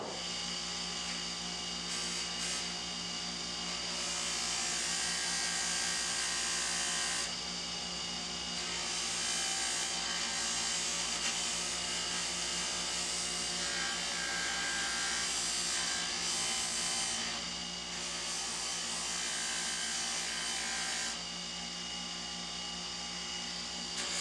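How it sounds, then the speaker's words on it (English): A buffing wheel with buffing compound polishes a knife handle, a loud continuous motor whine with a bright high-pitched polishing hiss that swells and fades in stretches over about twenty-four seconds. "I will use some buffing compound on a buffing wheel"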